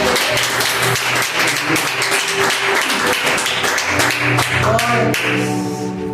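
A church congregation applauding during an evening service, dense continuous clapping from many hands with a sustained musical tone underneath, steady throughout.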